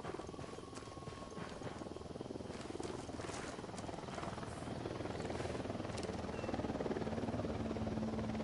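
A helicopter in the video game Ghost Recon Wildlands gives off a steady, loud rotor thrum and engine roar that grows slightly stronger toward the end, with no talk over it.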